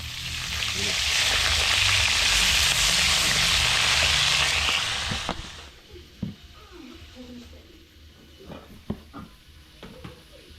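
Loud, steady sizzling of freshly caught fish, turay and galunggong, frying in a pan for about five seconds, then it drops away, leaving quieter clatter and a few sharp knocks.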